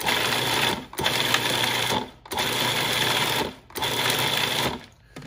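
A food processor pulses kale pesto with cheese in loud bursts, three long whirring runs of about a second or more, each cut off by a brief pause, with no talk over them.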